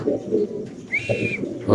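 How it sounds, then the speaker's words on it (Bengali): A black female King pigeon gives a short cooing call, heard close by, with faint rustling and background noise around it. "এখানে আছে একটা কালো শোকিং মাদি কবুতর"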